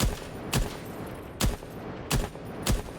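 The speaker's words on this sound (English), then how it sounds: "Shoot out the top 2 panels." Gunfire in the Rainbow Six Siege video game shoots out window panels: five short, punchy shots at irregular intervals over a low background hiss, with no talking.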